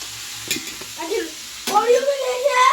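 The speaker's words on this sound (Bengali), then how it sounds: "এদিকে ভাজা হচ্ছে লুচি" Luchi, puffed wheat flatbread, frying in hot oil with a soft bubbling sizzle and a few clatters, while a voice is heard over it in the latter half.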